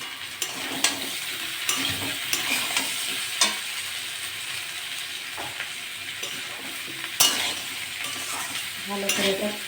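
Spices with cumin powder and salt fry in a pan for a prawn dish with greens stalks, potato and pumpkin, hissing steadily up close while a utensil scrapes and stirs in irregular strokes, with occasional sharper clinks.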